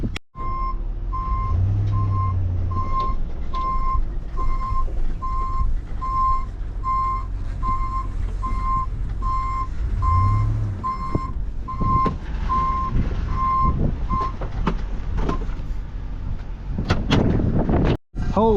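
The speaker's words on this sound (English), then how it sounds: "The Dodge truck showed up." Dodge truck arriving over a steady low engine rumble, with a long run of evenly spaced reversing beeps, loud and close, for most of the stretch, then a few knocks and thumps near the end.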